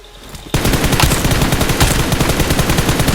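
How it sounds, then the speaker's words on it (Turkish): Rapid automatic gunfire from a gun in the video game PUBG Mobile, a loud sustained burst of evenly spaced shots starting abruptly after a quieter moment. "Bu da tabi güzel mermi atıyor."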